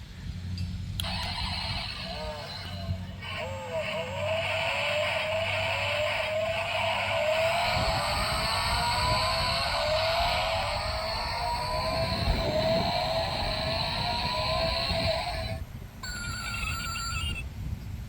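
Electronic engine and revving effects from a 1/18-scale Che Zhi Rolls-Royce Phantom toy car, with warbling, sweeping tones that run for a long stretch, close by, mixed with faint voices.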